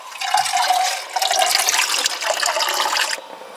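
Water poured from above into a pot of thick homemade soup, a loud continuous splashing pour lasting about three seconds before it cuts off abruptly.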